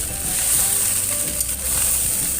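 Cooked rice frying in butter in a pan for butter fried rice, a steady bright sizzle with faint scraping stirs, close and continuous with no talking.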